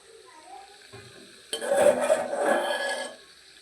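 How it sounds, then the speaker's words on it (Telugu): Vermicelli is stirred in hot ghee in a pan for a sweet dish, with a soft lead-in followed by a louder close burst of scraping, sizzling and clinking from the spoon for about a second and a half. "ఇప్పుడు మనం సేమియాన్ని కూడా బాగా కలుపుకోవాలి"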